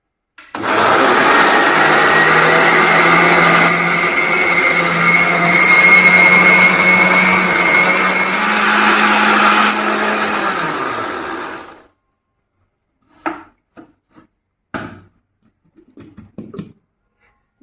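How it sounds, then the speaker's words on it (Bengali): A mixer grinder runs at full speed for about eleven seconds, blending jackfruit with no water added. Its loud, steady motor whine winds down at the end, followed by a few light clinks and knocks. "চলে যাচ্ছি ব্লেন্ড করে নিতে।"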